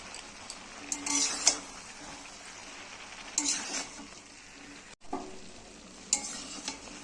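Cabbage curry with ground cumin and tomatoes being stirred in a pan, several bursts of spatula scraping and clinking over a soft continuous sizzle, close by.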